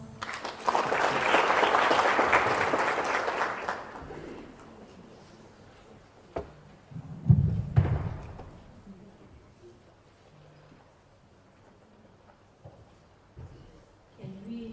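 Audience applause at a youth parliament session, a loud burst of clapping for about four seconds that fades, followed by quiet room noise with a few knocks and brief voices.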